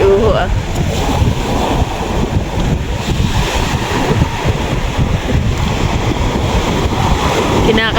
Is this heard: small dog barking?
no